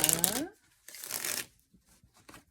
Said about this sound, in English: So I want to shuffle the cards